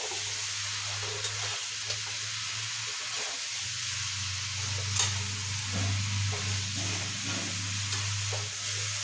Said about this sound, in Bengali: এটা ভালো করে কষবো